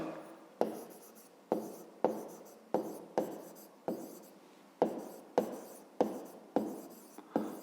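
A pen writes on paper during a fifth-grade maths exercise, with about a dozen distinct scratching strokes, each starting with a sharp tap and fading. The strokes come at a steady, unhurried pace, close and clear, with no talking.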